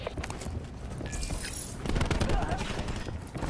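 Rapid bursts of gunfire in the first-person shooter Frequency, a dense clatter of shots and impacts running throughout, loud and close, with a voice talking over it.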